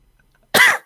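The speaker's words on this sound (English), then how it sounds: "That's a cough actually" A single short, harsh cough from one person, close and loud, bursting out after a near-silent pause with nothing else around it.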